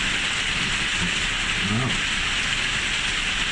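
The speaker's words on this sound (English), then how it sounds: "it's raining here, and just about every conceivable kind of noise" Steady rain falls outside as a constant hiss that fills the whole stretch, with a brief low murmur of a voice in the middle.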